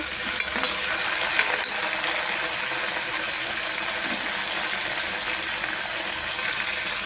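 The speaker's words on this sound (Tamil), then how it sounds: "புதினா எல்லாத்தையும் வதக்கிடுங்க." Mint leaves sauté in a pan for a mushroom and meal maker biryani, a steady hissing sizzle with light stirring scrapes, close and continuous.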